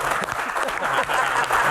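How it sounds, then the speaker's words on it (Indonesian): Audience applause for the comedian Cak Lontong at a Q&A event with panelists and university students, a brief burst of dense clapping sustained evenly at moderate loudness. "Sekali lagi, tepuk tangan untuk Cak Lontong."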